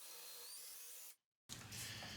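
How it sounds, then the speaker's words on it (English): A drill bores holes in wood with a Forstner bit, a quiet, steady whir that cuts out abruptly for a moment and then returns rougher and louder. "I'm going to use a Forstner bit, and I'm going to drill holes in each corner"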